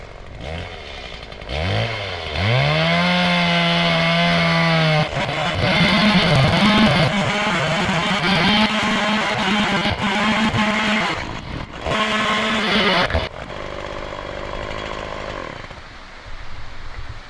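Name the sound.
Stihl MS170 chainsaw cutting wood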